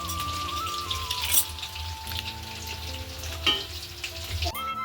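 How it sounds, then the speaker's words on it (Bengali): Meat frying in a pan at home sizzles steadily throughout, with a few louder crackling bursts and a faint tonal hum running underneath; no one speaks. "আর এদিকে আমার দিদি মাংসটা আগে ভেজে নিচ্ছিল"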